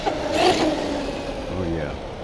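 Motor of a Redcat Shredder RC car revving at half throttle: a steady electric whine that rises and then settles, close and fairly loud, with a brief voice over it.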